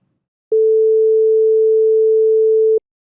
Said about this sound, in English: a sine wave is the purest tone that we can have in any audio format